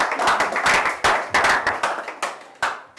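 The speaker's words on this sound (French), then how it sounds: "Applaudissez pour l'Éternel." A church congregation claps together for the Lord, a dense burst of close, rhythmic hand claps coming in quick waves that gradually thin out.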